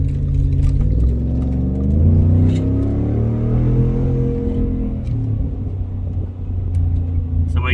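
A car engine fitted with a Whipple supercharger and Valvetronic exhaust rumbles loud and close, its pitch rising and falling through revs before settling to a deep idle, with speech over it.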